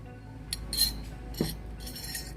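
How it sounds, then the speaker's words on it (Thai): A spoon stirring ground alum into about a litre of liquid in a container, a few bright metallic clinks and scrapes against the vessel in short bursts, close and moderately quiet. "แล้วเราคนส่วนผสมทั้งหมดให้เข้ากันอีกที"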